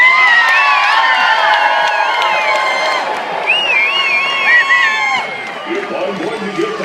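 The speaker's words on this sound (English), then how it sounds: "Do you think that maybe you all could give old St. Nick a little noise?" Crowd at an outdoor Christmas tree lighting event cheers, whoops and shouts steadily, with children's high voices rising over the sustained roar and a few whistles, loud and continuous throughout.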